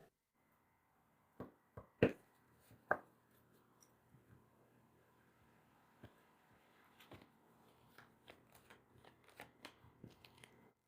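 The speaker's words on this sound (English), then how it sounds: "I'm shuffling the deck." Quiet riffling and snapping of playing cards being shuffled, a few sharp louder flicks early on, then a run of soft rapid clicks.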